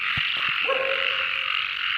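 Frogs croak at night, with a few short close calls followed by a drawn-out croak. A dense, steady chorus of insects or frogs keeps going underneath throughout.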